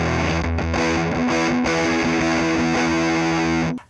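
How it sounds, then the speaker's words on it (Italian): Electric guitar through a Formula B Fuzz Rangers pedal at full fuzz with guitar volume on 10: thick, saturated sustained chords and notes, loud and dense, cut off abruptly at the end. "con il volume a 10 ha il suono fuzz completo"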